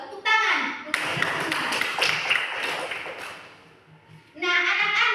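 Children in a primary school classroom clapping in a dense, rhythmic burst of hand claps lasting a few seconds, with a teacher speaking just before and after.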